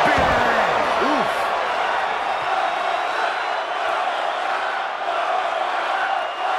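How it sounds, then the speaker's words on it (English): A roaring wrestling crowd in the video game Def Jam 2K22, a loud, steady wall of cheering and shouting that holds for several seconds, with a few thuds near the start and commentary voices mixed in. "The sound of this crowd is deafening, and he's asking for more."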